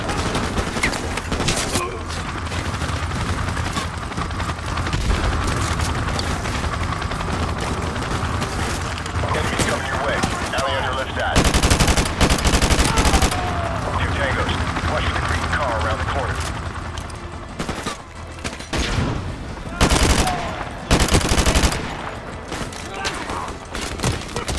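Heavy gunfire in Modern Warfare Remastered, a near-continuous barrage of loud shots and bursts lasting throughout, with voices talking over the battle.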